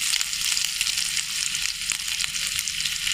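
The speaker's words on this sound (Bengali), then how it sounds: "তেজপাতা, লং, এলাচ, দারচিনি দিয়ে দেবো। একটু নাড়া দিয়ে একটু দেবো।" Whole spices such as bay leaf, cloves, cardamom and cinnamon sizzle and crackle steadily in hot oil with lightly browned coconut in a pan, loud and close, with occasional scrapes from stirring.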